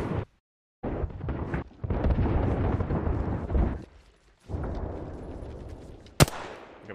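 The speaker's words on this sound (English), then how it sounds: "Heads down, airstrike danger close." Airstrike explosions in the Apex Legends battle royale game: a run of loud, booming broadband blasts and rumbling bursts that rise and fall for several seconds, a short pause, then one sharp crack near the end.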